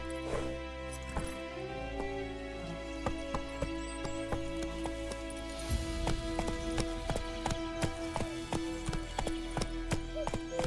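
Roach, a horse in The Witcher 3, gallops in a quick, steady clip-clop of hooves that runs throughout and grows slightly louder partway through, over a soft game music bed.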